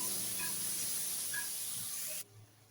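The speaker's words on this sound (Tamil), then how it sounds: "தக்காளி நல்லா வதங்கட்டும்" Tomatoes and onions sautéing with fish in a pan for nookal kuzhambu: a soft, steady sizzling hiss runs throughout, then drops away abruptly near the end, leaving a quieter room.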